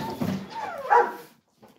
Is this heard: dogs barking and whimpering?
yes